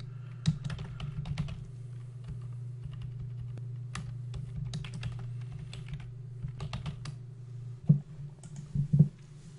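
Typing code comments on a computer keyboard: quick, close, irregular key clicks in bursts over a steady low electrical hum, with a few louder key strikes near the end.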